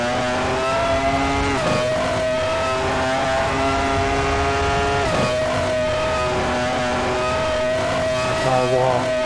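Sauber 1996 Formula 1 race car engine in a racing video game, a loud, steady high-pitched whine that holds its note with brief dips during gear changes, running continuously throughout.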